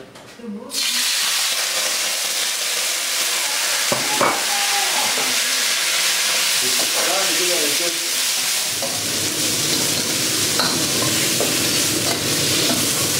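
Prawns searing in a smoking-hot pan give a loud, continuous hiss that starts abruptly and holds steady, with occasional scrapes and clinks of a utensil moving them around, close up.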